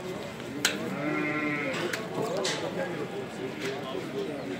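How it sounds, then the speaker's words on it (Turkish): Woolly Sivas lambs bleat over and over at a livestock market, a dense chorus of close and distant cries under steady crowd noise, with people talking throughout. "Bunlar Sivas kuzuları."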